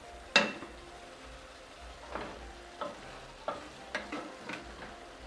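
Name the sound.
tossing Mongolian beef with spring onion greens in a pan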